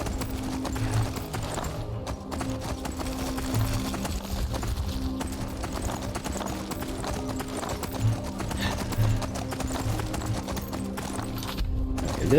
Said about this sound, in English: let's find our horse and get back on the road